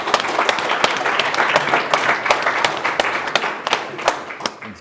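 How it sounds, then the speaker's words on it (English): A studio audience at a hurling final show claps loudly for two guests, a dense, sustained round of applause with prominent individual claps throughout. "Big hand round of applause for Billy and Niall, please."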